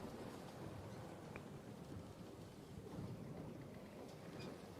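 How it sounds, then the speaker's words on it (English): A heavy thunderstorm rolling in, with a steady wash of rain and wind and low rumbling thunder, with the sound of waves against a ship underneath. "You hear this heavy storm coming in."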